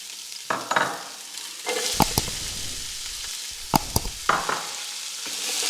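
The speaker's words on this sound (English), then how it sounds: "So we're going to drop in the onions. We'll start frying them off." Onions for chilli con carne sizzle in a hot pan with a soft frying hiss, broken by clattering stirs and scrapes of a utensil against the pan.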